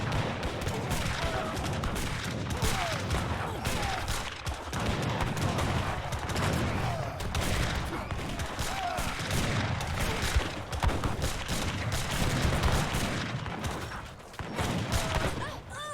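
Dense, continuous gunfire and artillery exchanges from a team game of Age of Empires III: overlapping cannon booms and musket volleys crackle steadily throughout, busy and loud with no pauses.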